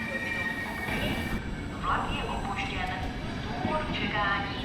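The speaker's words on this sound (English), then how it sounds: "the Eurocity service from Poland to Vienna, which is now entering in the adjacent track" A EuroCity train from Poland to Vienna rolls in on an adjacent track with a broad mechanical rumble, faint squeals and a hum, continuous throughout at moderate loudness.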